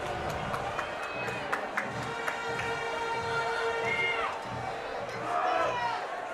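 A crowd cheering at a high school football game between Spring Hill Broncos and Louisburg Wildcats, a broad, steady roar with shouts and some whistles rising and falling under a commentator's talk.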